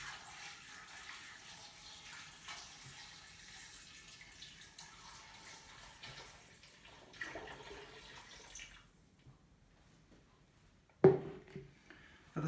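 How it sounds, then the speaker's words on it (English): Cold water is poured into a pan holding pumpkin pieces for soup, a steady rushing pour for several seconds that stops, followed by quiet and a sharp clunk near the end. "I add 2 litres of cold water."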